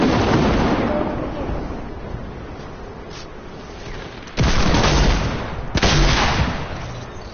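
Gunfire in Fortnite comes as heavy, booming shots with long decaying echoes, one opening blast followed after a pause by two more sharp reports close together.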